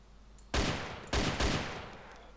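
Gunfire in the survival video game DayZ, a few loud bursts that begin abruptly about half a second in, then a second and third volley that each ring out and slowly fade.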